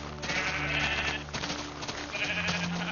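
Minecraft sheep bleat in a flock, with a few wavering, nasal calls overlapping one another at close range and no talk underneath.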